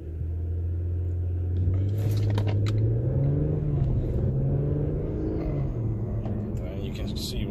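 An Infiniti Q50 AWD car launches hard from a standstill, its engine note rising steadily in pitch as it accelerates, loud and close, with a deep drivetrain rumble underneath.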